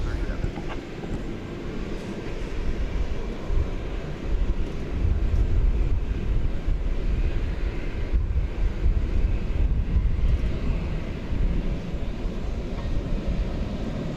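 A 767 airliner bound for Louisville at DFW Airport, its deep engine rumble swelling and holding steady at a distance, blended with wind buffeting the microphone.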